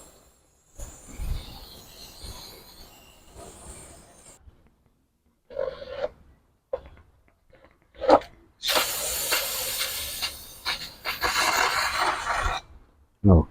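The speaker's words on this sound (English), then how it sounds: "let's see if we could spray down some more of this oil" Cleaner hisses in long spray bursts onto the oily engine covers of a 2001 Lexus GS 300 during timing belt work. Short scrapes and clicks come first, then a loud, sustained hiss over the second half.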